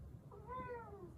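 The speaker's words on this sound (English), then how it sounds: "this is my cat Richie." A pet cat named Richie gives a single clear, rising-and-falling meow about half a second long, close by, over a quiet kitchen background hum.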